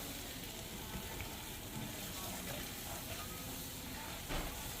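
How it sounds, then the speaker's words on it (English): Butter and flour whisked together in a hot pan give a steady close sizzle and soft scraping hiss, with faint clinks of the whisk. "Whisk that together well until it's creamy and combined"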